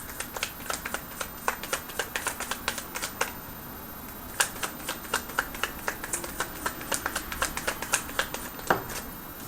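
Tarot cards being shuffled and drawn: a steady run of crisp, close clicks and snaps, some quick and clustered, others spaced apart, with no talking.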